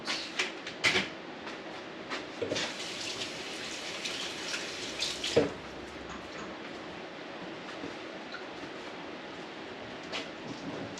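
Water runs steadily from a kitchen tap into a pressure canner, a continuous close hiss with a few clinks and bumps early on and no talking.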